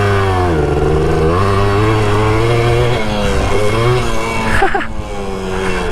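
A dirt bike engine drones and revs steadily up close on a pit bike track, with shifting pitch as the rider accelerates and eases off, loud throughout.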